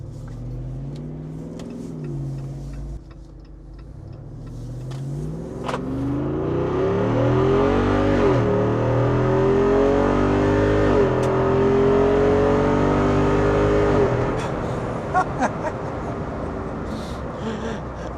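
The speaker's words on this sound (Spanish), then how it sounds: "vamos a presionar el botón para poder escuchar bien el rugido de esta máquina" A Jeep Wrangler 392 with a HEMI V8 fires up and revs hard, its deep roar swelling and falling through several throttle blips, loud and close with no talking over it.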